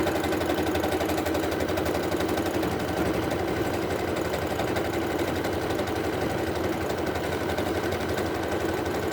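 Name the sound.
sewing machine stitching a pocket pillow seam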